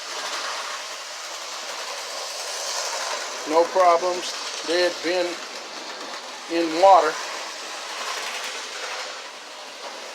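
Model diesel trains hum and rattle steadily along the track, with someone talking briefly over the running noise.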